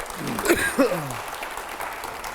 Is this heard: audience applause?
yes